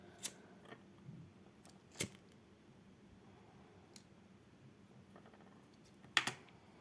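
Scissors snip blue thread for shuttle tatting lace in a few quiet, sharp, isolated clicks spread apart in a near-silent room, the last a quick double snip.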